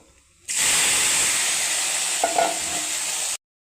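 Spices fry in hot oil with a loud, steady hiss that starts abruptly and cuts off, a few faint stirring clicks near the end.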